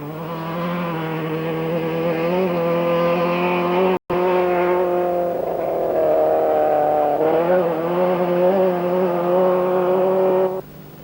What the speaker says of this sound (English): Behind him, Kirkland also gets past without any dramas.